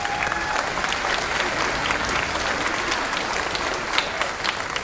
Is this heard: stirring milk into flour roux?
no